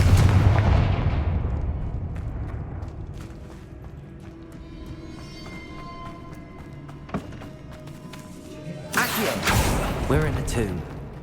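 A Confringo blasting spell explodes in Hogwarts Legacy, a loud booming burst at the start that rumbles and fades, followed by mechanical clatter and a second heavy blast near the end amid game effects.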